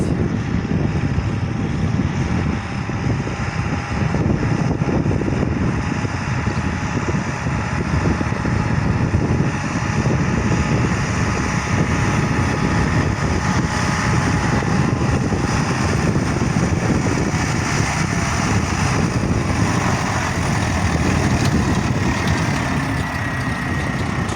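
A propeller aircraft flying over a field during barley sowing, its engine droning steadily and fairly loud for the whole stretch, its whine shifting slightly in pitch as it passes, no talking.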